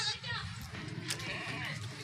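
A goat bleats in a faint, wavering cry that sits under someone talking close by, lasting about two seconds.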